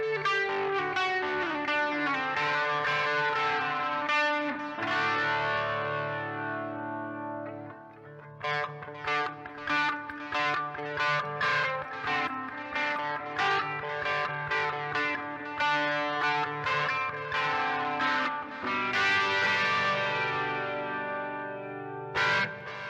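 An electric guitar runs through chorus, light overdrive and reverb pedals with an EP booster fully on, playing sustained chords and picked notes with a shimmering, washy tail, loud and alone.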